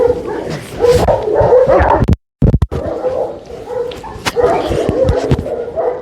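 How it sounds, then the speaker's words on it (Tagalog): An Alabai dog close by gives short yips and barks mixed with whimpering, broken by a brief silent gap in the middle. "So, Boss Melvin, ito na yung aso mo ingatan mo siya"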